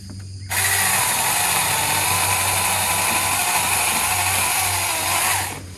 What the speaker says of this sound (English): that's where these Saker 20 volt 4-inch chainsaws come in handy